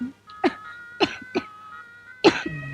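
Several short, sharp coughs in an uneven pattern, close by, over a steady electronic tone in the background.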